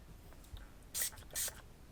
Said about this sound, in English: spray it down inside the barrel, over the top of everything